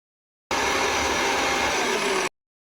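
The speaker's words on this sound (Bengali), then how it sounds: "বাকি 1টি পেঁয়াজ সাথে রসুন এবং আদা নিয়ে সবগুলোকে ব্লেন্ড করে নেব" An electric blender whirs through onion, garlic and ginger for beef tomato chutney, a loud, steady motor roar that starts abruptly, holds for under two seconds and cuts off sharply.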